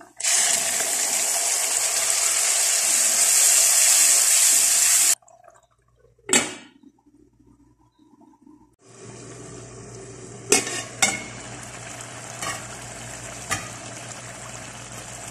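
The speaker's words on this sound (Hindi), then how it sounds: "अब हम इसमें हरी मिर्च, अदरक, लहसुन और टमाटर का पेस्ट जो मैंने बना लिया था वो डाल दें" Green chili, ginger, garlic and tomato paste hits a hot pan for chicken with bottle gourd curry, a loud bright sizzle for several seconds that cuts off, then quieter clinks and stirring as frying resumes at lower level.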